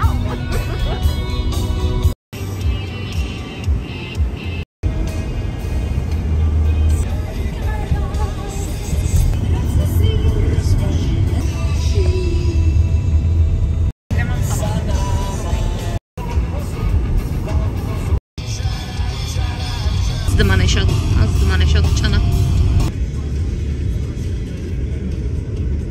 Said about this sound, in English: We are driving in London.